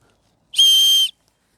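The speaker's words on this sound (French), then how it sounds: "sur la sangle pectorale, il y a un sifflet en cas d'urgence" One shrill, piercing blast from an emergency whistle on a backpack chest strap, held steady for about half a second, loud and close, then silence.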